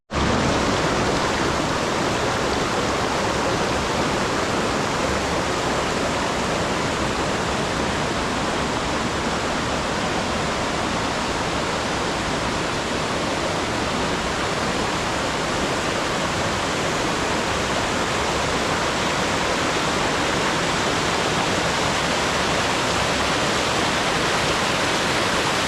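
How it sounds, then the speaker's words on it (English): A waterfall near Malham in the Yorkshire Dales roars in a loud, unbroken broadband rush, heard up close and alone with no voices. "as you can see I'm at the waterfall now, and it's looking really good"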